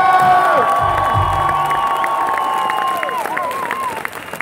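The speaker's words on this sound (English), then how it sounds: "let's give a one big motherfucking big applause to" A rock concert crowd at a show cheers and whoops loudly, shrill yells and sustained shouting with scattered clapping, dense at first and thinning slightly toward the end.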